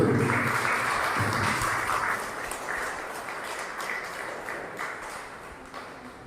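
Audience clapping at a birthday celebration held at a shrine, a dense crowd applause that starts strong and slowly thins and fades.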